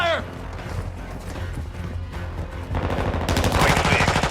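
Gunfire rattles in a military shooter video game, with dense rapid shots building louder toward the end over a steady background of game noise.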